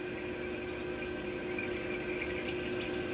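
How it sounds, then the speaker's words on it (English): Coolant streaming steadily onto a barrel being chambered on a CNC lathe, a constant broadband hiss and splash like running water with a faint machine hum beneath, even in level and free of talk. "I'm going to turn on some coolant just to flush out them chips"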